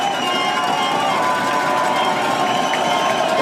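Football stadium crowd at a Calvin versus Trine game roaring and cheering after a late fourth-quarter touchdown pass, a dense, sustained wall of voices with no break across the whole stretch.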